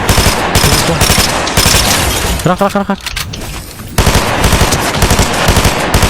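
Dense automatic gunfire from a shooting game, rapid bursts rattling almost continuously, pausing briefly midway before resuming loud, with a voice talking over it.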